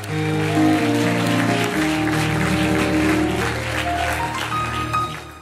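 A church congregation claps steadily in acclamation to God over sustained keyboard music, a broad, continuous wash of applause that holds for several seconds before easing slightly.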